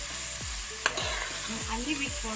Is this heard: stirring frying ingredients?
yes